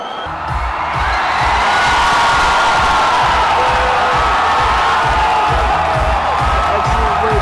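A packed concert crowd screams and cheers for a DJ, a loud, dense roar of voices that swells in after a brief quieter start and holds steady.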